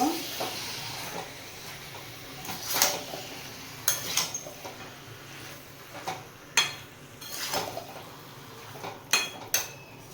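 Chicken being stir-fried in a pan over a gas flame, a low frying hiss broken by repeated clanks and scrapes of the spatula against the pan at an uneven rhythm, close by.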